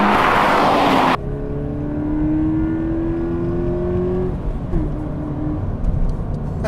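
Engine sound piped into the cabin of a 2017 Toyota GT86 hums, its tone climbing smoothly as it accelerates, drops briefly at a third-to-fourth gear change, then drones on.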